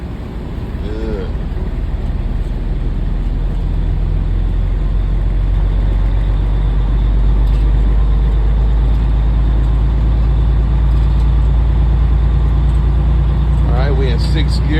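A truck engine with a 10-speed manual transmission drones loudly inside the cab while being upshifted on a drive in poor weather, the steady rumble carrying on under a voice with brief shifts in pitch.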